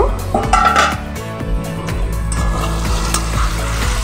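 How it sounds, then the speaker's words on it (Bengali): A metal lid comes off a pot of bata fish kalia, with potatoes frying in spices and oil, making a few sharp clanks and clinks over continuous sizzling. "ঢাকনাটা সরিয়ে দেখব।"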